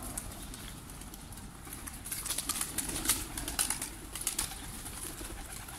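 Pigeons released in a village take flight, a loose flurry of flapping wings rising and fading over steady outdoor background noise, with a few sharper wing bursts near the middle.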